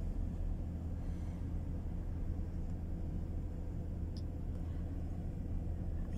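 Low, steady rumble of road traffic heard from inside a vehicle stuck in traffic in Qatar, faint and continuous with a muffled engine drone and no talk.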